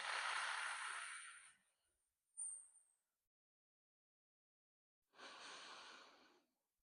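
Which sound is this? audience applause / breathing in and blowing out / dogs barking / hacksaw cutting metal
breathing in and blowing out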